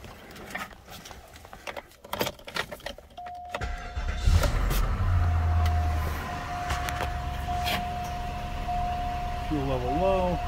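A car that has just come off battery charge cranks, catches and settles into a steady idle with a thin whine riding over the engine, after some clicks and a brief voice at the start.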